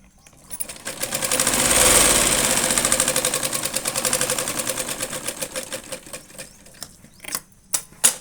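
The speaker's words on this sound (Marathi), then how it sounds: "हे बघा किती पटकन शिवून झाला." A sewing machine stitches a blouse in a fast, rhythmic run of needle clatter that builds, holds steady, then slows into a few separate stitches at the end, close and clear with no talking.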